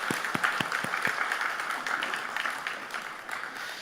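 A church congregation claps together in steady applause during an afternoon service, dense and even, gradually thinning toward the end.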